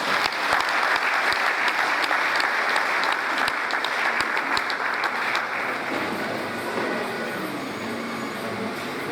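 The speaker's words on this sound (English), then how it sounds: "Please, can I request an applause for that?" A lecture audience applauds at an annual public lecture; sustained, loud clapping from a large crowd fills the hall, with a few sharper claps up front before it slowly thins out toward the end.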